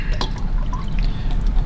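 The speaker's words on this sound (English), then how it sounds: "And then next, add your coolant." Coolant is poured into the engine of a 3.6 V6 Dodge Grand Caravan, a steady close liquid gurgle and trickle over a low continuous rumble, with no talk.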